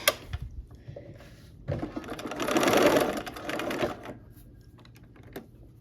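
Sewing machine stitching quilt pieces together for a barn-themed sampler quilt, a close, steady mechanical whir that builds to a louder, faster run mid-way, then slows to lighter intermittent clicks and taps.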